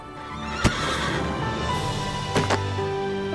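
A horse on a ranch neighs with a short, shrill whinny, followed by a couple of sharp knocks like hooves on hard ground, over a steady background hum.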